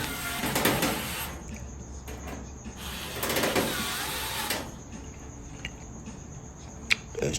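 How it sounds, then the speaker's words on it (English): A power driver whirs in two short bursts, starting screws into a bracket on a Whirlpool Duet gas dryer during a thermal fuse replacement, with quieter mechanical clicks and handling noise between and after. "I'm starting the screws off here"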